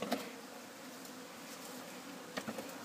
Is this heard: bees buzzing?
yes